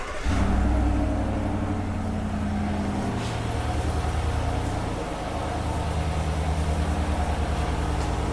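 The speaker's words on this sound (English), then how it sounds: "Go push the start button on the car and jump start it." A car engine cranks and starts with power from a JFEGWO 3750A jump starter and power bank, then settles into a loud, steady close idle rumble.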